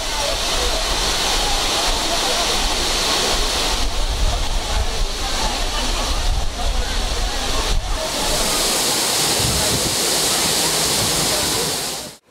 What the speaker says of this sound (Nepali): अग्लो पहरा, तीव्र वेगका झरनाहरूको छहरा